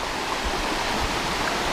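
A river flowing past rice fields beside a valley camping trail, a steady broadband rushing of water, close and continuous without pauses or voices.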